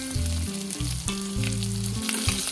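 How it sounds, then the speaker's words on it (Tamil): Green chili, ginger and curry leaves sauté in hot oil with a steady close sizzle, punctuated by a few brief tonal clinks and stirring scrapes, no voices. "பச்சை மிளகாயை நல்லா வதக்கிடுவோம்."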